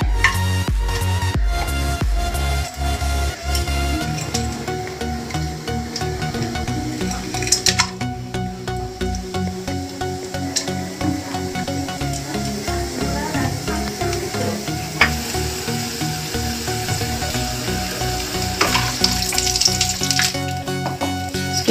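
Whole spices fry in hot oil for paneer butter masala, a dense, continuous sizzle and crackle with occasional clicks and scrapes, close and fairly loud throughout.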